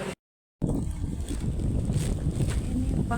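An island-hopping boat engine drones steadily over rushing water and wind buffeting the microphone off Coron Island, Palawan, continuous and close after a brief silent gap.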